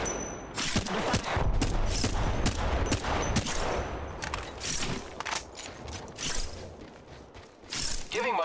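Gunfire while under attack in a video game, heard as quick clattering bursts and mechanical ratcheting clicks at moderate volume, sometimes spaced out and sometimes rattling in rapid runs.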